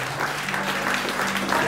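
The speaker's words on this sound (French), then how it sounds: "Acclamez pour elle." An audience applauds at a church testimony gathering, with continuous, fairly loud clapping throughout and no speech over it.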